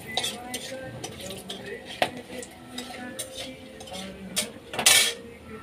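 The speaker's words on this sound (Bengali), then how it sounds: "তেলটা গরম হয়ে গেল, এবারে আমি ফোড়নে একটু গরম মশলা দিয়ে দিলাম" Whole garam masala and bay leaf sizzle in hot oil for a mutton dish, a soft steady frying hiss broken by utensil clinks and scrapes against the pan, with one louder burst near the end.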